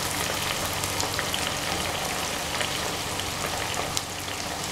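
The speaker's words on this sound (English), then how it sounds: "So allow everything to simmer" Tomato sauce with smoked mackerel simmering in a pan, a dense continuous bubbling sizzle that sounds almost like steady rain, loud and close with no voices.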